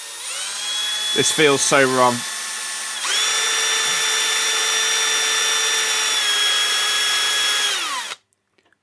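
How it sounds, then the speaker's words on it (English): A Milwaukee power drill bores into a Sega Game Gear console. The motor whines loud and close in a sustained high pitch, then winds down and cuts off, with a short spoken remark before the main run. "I'm going to try and drill this."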